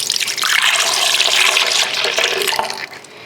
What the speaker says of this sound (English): I start by pouring oat milk into the glass that I'm going to use, or the cup, and then I pour that into the blender